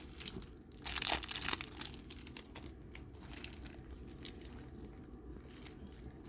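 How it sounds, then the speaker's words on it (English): Packaging crinkled and torn open around a Dooney & Bourke handbag, a louder burst of rustling and crumpling up front, then soft intermittent crinkles, close and quiet with no talk. "before I fully unwrap it"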